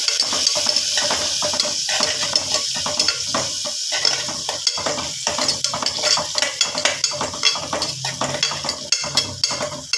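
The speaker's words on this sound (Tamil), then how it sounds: "நல்லா கிண்டுங்க. நல்லா வதங்கணும். வெங்காயமும் நல்லா வதங்கணும்." Onions with a pinch of turmeric are stirred and sautéed in a pan, with repeated spatula scrapes and clinks over a continuous close sizzle, the stirring growing more rhythmic toward the end.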